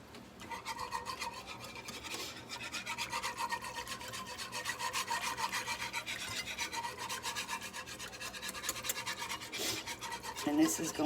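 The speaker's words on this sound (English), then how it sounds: "I'm gonna get me a whisk." A whisk beats cheese sauce for old-timey mac and cheese, a fast continuous scraping rhythm that stays close and even for around eleven seconds, with no voices over it.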